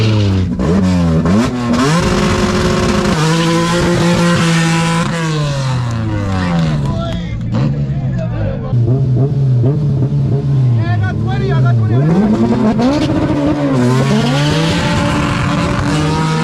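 Nitrous-equipped Honda EG race cars scream through the gears in a loud, close run, with engine pitch climbing, dropping at shifts and climbing again, against crowd noise at a street-racing event.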